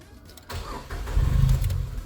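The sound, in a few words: Datsun Go+ Panca 2016 car engine starting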